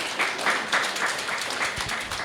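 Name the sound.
audience applause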